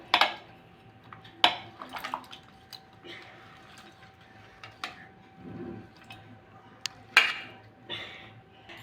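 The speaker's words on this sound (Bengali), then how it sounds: "একটা চামচ নিয়েছি, ভালো করে জলের মধ্যে চুবিয়ে দেব আলুগুলো" Grated potato pushed into salted water with a spoon: scattered clinks of spoon against a bowl, soft wet swishing and a few louder knocks spaced irregularly, close and moderately quiet.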